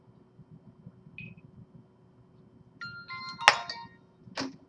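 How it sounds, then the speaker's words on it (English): A cell phone rings in a lecture hall, a short electronic tone followed by a couple of brighter chiming bursts, faint against quiet room hum. "I'm sorry, this is my cell phone."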